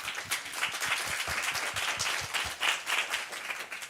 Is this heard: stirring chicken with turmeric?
no